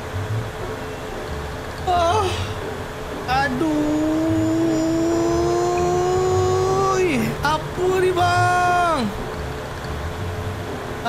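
A drone flying in a video game gives off a steady tonal motor whine that climbs in pitch, holds, then drops away, recurring in short surges over a low rumble, while voices chatter alongside.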